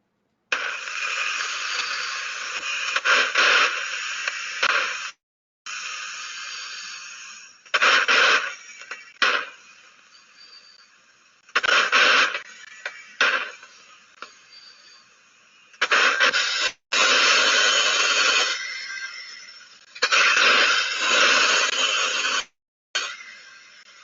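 Ultrasound pickup of a hydraulic piston moving in a fluid power system, heard as bursts of hissing, rushing noise that start and stop repeatedly, separated by brief silences.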